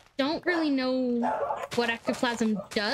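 Pet dogs at home bark and yelp excitedly in short bursts, close by and loud, mixed with someone talking over them.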